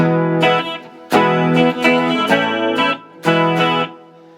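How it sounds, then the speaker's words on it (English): Electric guitar through a Marshall MG15CFX amp, strummed chords ringing out in four bursts, each tail washed in the amp's smooth studio reverb effect. "that's a bit of studio reverb."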